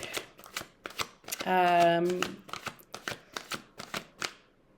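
Tarot cards are shuffled and drawn in a quick run of crisp riffling flicks and snaps, up close, with a brief sustained tonal voice sound partway through.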